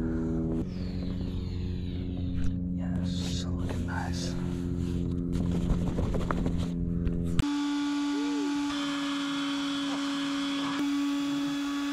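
A Catalina 30 sailboat motors along under engine power in windless conditions, its steady low engine drone and hum running continuously, shifting in tone partway through with a faint whistle-like tone above.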